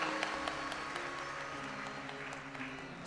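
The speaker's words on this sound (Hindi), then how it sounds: "एक बार जोरदार ताली बजाकर आपके लिए स्वागत।" An audience at a religious gathering claps in welcome for a guest saint, a dense burst of applause that stays steady and fairly faint throughout.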